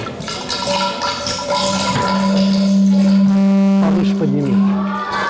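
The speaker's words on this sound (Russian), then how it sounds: "Сейчас я сверху вот так буду лить." Water poured from above into a vessel, a splashing stream whose tone rises in pitch as the vessel fills, heard under a few spoken words.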